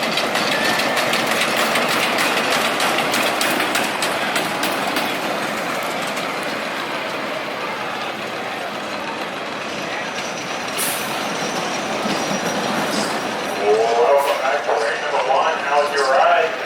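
A roller coaster train at Kings Island at night rumbles along its track in a loud, continuous roar with rattling clatter, and a brief burst of crowd voices or screams rises near the end.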